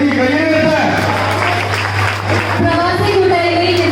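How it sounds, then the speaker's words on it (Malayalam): Applause from a family gathering audience, a dense clapping wash that runs steadily through, with a loud hum and voices over the top. "കയ്യടി കയ്യടി കയ്യടി"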